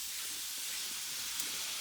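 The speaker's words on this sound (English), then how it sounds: "Got it sizzling and ready to rock and roll." Five peeled apples sizzle in a pan of butter with cinnamon, brown sugar and a splash of lemon juice, giving a steady, close, dense hiss that holds evenly throughout with no talking.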